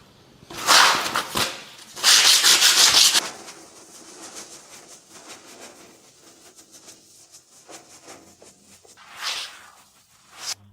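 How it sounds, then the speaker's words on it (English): A brush dry-painting old kitchen tiles gives a few loud bursts of quick scratchy strokes, then quieter, faster light brushing, and one more brief louder pass near the end. "So I do this and I'll do the dry brush."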